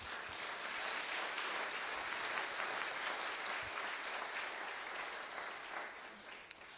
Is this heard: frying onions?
no